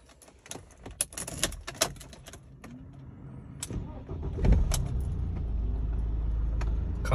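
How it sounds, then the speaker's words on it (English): An automatic BMW starts on its old key: a few sharp clicks and key rattles come first, then the starter cranks and the engine catches into a steady, close idle. "Car starts."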